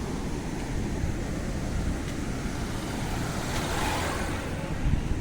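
Water rushes steadily through a large pipe at the overflowing Shetrunji river near Talaja, a loud, unbroken roar close by with wind buffeting throughout.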